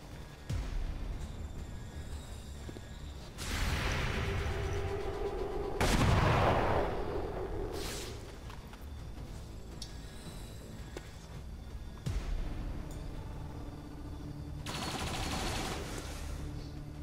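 XCOM 2 combat gunfire rings out in several sharp bursts and booms spread over the stretch, with rumbling impacts between shots and no talk.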